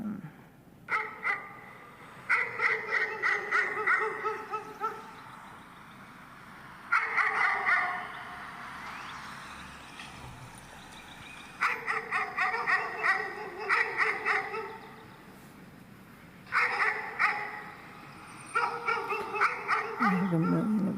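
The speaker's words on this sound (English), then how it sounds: "when the dogs are barking" Several dogs bark in repeated loud bursts, with short pauses of quiet between volleys, heard from a house with its doors and windows closed.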